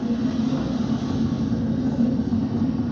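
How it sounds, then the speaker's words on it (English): A SpaceX Falcon 9 rocket's engines throttle back up to full power after max Q during launch, giving a continuous, dense roaring rumble that holds steady throughout without talk. "We're throttling back up to full power as we're through max Q."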